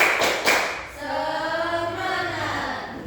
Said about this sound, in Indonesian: mari kita tepuk semangat dulu supaya lebih semangat lagi pembelajarannya